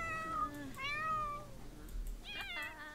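Cat meowing in The Sims 4, several drawn-out close meows in succession, clear and moderately loud over a quiet game background with no talk.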